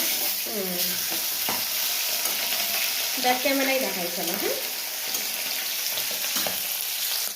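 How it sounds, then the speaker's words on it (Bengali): Fish sizzles steadily in a hot frying pan, a dense, continuous crackle close by, with a person talking over it partway through. "এদিকে চলছে মাছ ভাজা এখন"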